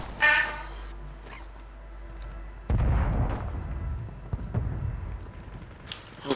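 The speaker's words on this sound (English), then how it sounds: "Take this precision airstrike." Precision airstrike explosions in a Call of Duty Warzone match, a heavy booming blast followed by rumbling debris and smaller impacts, loud within ambient game sound.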